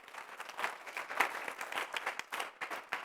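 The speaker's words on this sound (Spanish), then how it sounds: "dale esa ofrenda de palmas al Señor" A congregation in church claps together in an offering of applause, producing a steady, dense patter of many hands at moderate distance, with no talking over it.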